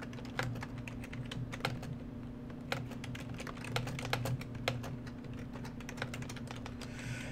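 Quick irregular clatter of keys being typed on a computer keyboard, close and fairly quiet, in bursts with a low steady hum underneath.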